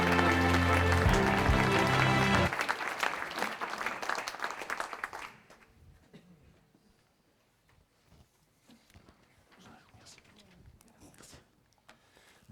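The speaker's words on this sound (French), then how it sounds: "vos applaudissements pour accueillir notre conférencier" Audience applause at a Swiss training-fair opening ceremony welcomes the guest speaker. Loud massed clapping over music runs for about two and a half seconds, then fades quickly into a quiet hall with scattered faint sounds.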